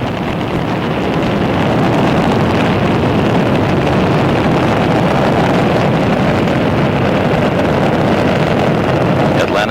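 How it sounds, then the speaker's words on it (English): Space Shuttle Atlantis on the STS-104 launch, its three liquid-fuel main engines giving a continuous, loud, broadband roar with rumble that holds steady throughout, gusty and wind-buffeted. "Atlantis' 3 liquid fuel main engines now throttling back in a 3-step fashion"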